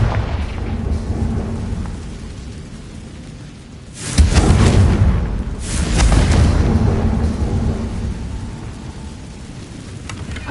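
A Confringo fire spell explodes in Hogwarts Legacy, two deep booming blasts a couple of seconds apart that roll out over a rumbling background.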